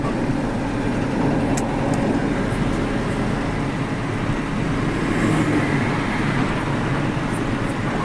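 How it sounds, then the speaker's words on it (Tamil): Lorry driving along a road through Thoppur forest, a continuous broadband rumble of engine and tyre noise holding steady the whole time, with no voices. "லாரிக்கார அண்ணா ரைட்டில் ஏறி போயிட்டு இருக்கிறாரு"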